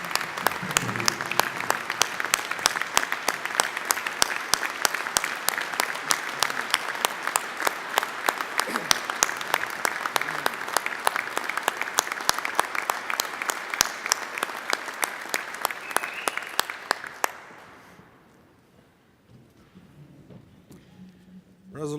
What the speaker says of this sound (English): I wish to give him a round of applause